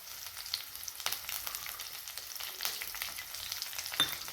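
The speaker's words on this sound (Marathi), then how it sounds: "त्यानंतर यामध्ये आपल्याला ही हिरवी मिरची घालायची." Green chillies sizzling in a pan with cumin and garlic paste, a soft crackling fry with scattered pops and a few stirring clicks, close but fairly quiet.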